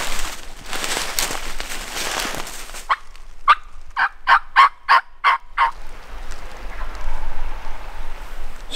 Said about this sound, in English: He's gobbling straight across the ridge from us.